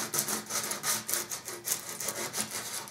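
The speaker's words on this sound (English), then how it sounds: "Now I can use the sandpaper to get in there without damaging the lacquer on the instrument." Sandpaper scrubs by hand around the bell brace area of a brass tuba in quick back-and-forth strokes, a steady rhythmic rasp heard up close with no talking.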